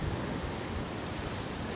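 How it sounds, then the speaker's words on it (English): Sea waves and strong wind at Santa Ponsa, Mallorca, a steady broadband rush of surf and gusting air buffeting the microphone, loud and continuous with no voices. "It was such a different story than today with all these waves and this high wind."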